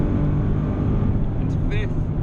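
A Nissan 370Z engine drones steadily from inside the car on track, with a brief shift up into fourth gear and someone talking over it.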